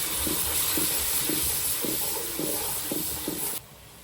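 Water is poured into a pot of cooking potatoes, giving a steady hissing, sizzling wash with soft rhythmic knocks before it cuts off near the end.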